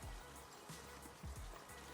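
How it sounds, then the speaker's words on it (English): A washing machine runs water indoors, a steady trickling wash with soft splashes and low thumps, moderately faint and continuous, with no talking. "That's not me taking a pee, that's the washing machine."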